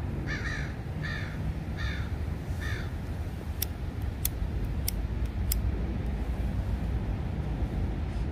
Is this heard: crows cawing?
yes